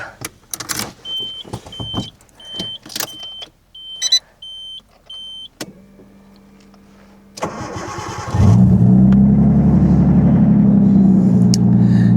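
A MINI R32's engine cranks briefly after a few short beeps and power-window whirs, then catches and settles into a steady, loud idle.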